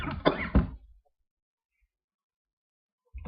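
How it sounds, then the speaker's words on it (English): A man coughs a few times in quick, harsh bursts close to the microphone, followed by a long silence before a voice briefly starts. "Excuse me, I've been fighting this cough."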